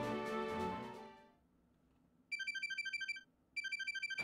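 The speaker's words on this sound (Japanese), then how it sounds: "響監督から電話だわ。" A phone rings in the video game Inazuma Eleven 2: a fading musical tone gives way to brief quiet, then two bursts of rapid, bright electronic ringing.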